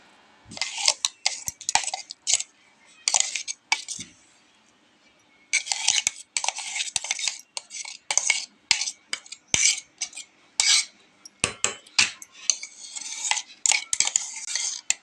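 Raw mango chutney paste being scooped out into a large dish, a quick series of close, bright metallic scrapes and clinks of a spoon against a vessel, with a brief pause partway through.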